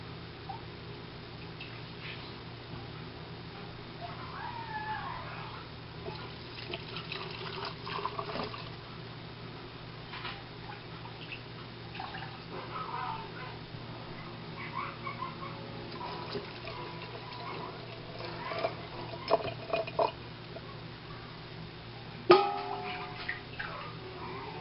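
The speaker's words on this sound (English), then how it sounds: "I'm just going to start adding the broth to the jars now" Homemade beef broth is poured into canning jars for beef soup. A faint, close trickle and splashing of liquid runs on and off against a quiet background, with a few louder splashes near the end.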